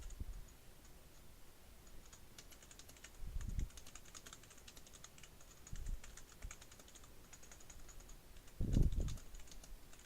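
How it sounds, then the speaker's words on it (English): Someone types on a computer keyboard during a home livestream: quiet, scattered key clicks with a few louder clattering bursts and thumps, close and without talk. "I think you guys may hear my keyboard go crazy."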